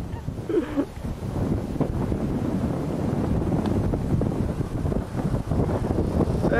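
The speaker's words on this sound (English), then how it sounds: "Yeah, it's a touch windy." Steady wind buffeting a microphone outdoors near the water, where sailing boats move about, a constant loud rush with gusty swells throughout the clip.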